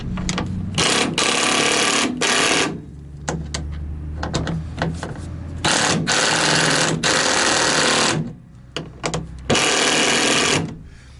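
A power tool snugs up the nuts on a Weathertech no-drill mudflap fitted to a Ford Super Duty truck. It buzzes in several loud, rattling bursts of varying length, with brief pauses and clicks between them.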